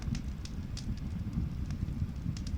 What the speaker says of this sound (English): I'm just sitting here enjoying the fire